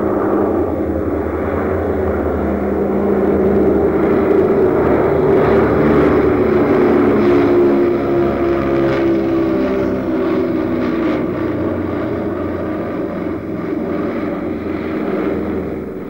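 Propeller airplanes of the Berlin Airlift in an old newsreel, a continuous loud drone of aircraft engines that swells and slowly fades.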